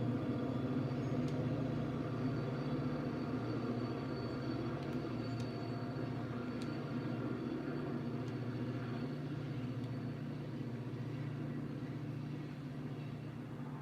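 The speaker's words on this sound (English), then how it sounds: "You're gonna hear the train." A train rumbles steadily past, a continuous low mechanical roar with faint higher squeals and clanks, fairly close and without speech over it.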